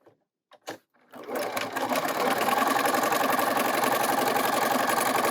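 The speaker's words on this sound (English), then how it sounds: "I'm going to sew my 1/4 inch on one side" After a couple of soft knocks, a domestic sewing machine starts up and runs at a steady, fast whir, stitching a quarter-inch seam on a quilt block, loud and close without pause.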